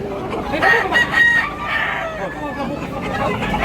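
Gamecocks at a Cebu rooster sale, one crowing loudly up close amid clucking fowl, with people talking in the background.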